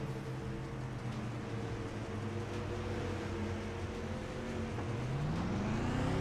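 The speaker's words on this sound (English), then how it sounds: "I hear the roar of the engines, you know what I'm saying?" Race car engines drone steadily in the iRacing sim, a fairly quiet, even whine that climbs in pitch as the revs build toward the end.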